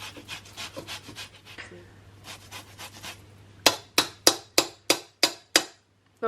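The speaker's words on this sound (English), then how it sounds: "we want to zest the orange and zest the lemon." An orange and a lemon are zested against a grater, first with soft, quick scraping strokes, then with about eight louder, evenly spaced rasping strokes, close up with no talking.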